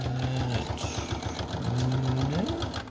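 A sewing machine stitches through the layered fabric of an accordion pouch pocket, its steady rapid needle hum close and continuous, with a shift in pitch as it runs over the thicker section.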